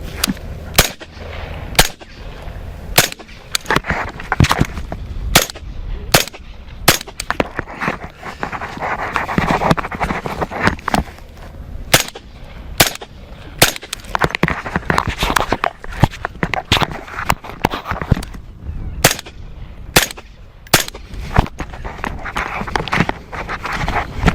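Pistol gunshots ring out in an outdoor X-box shooting drill in cold Minnesota weather, sharp and loud, coming in quick pairs and bursts with short gaps while footsteps shuffle between them.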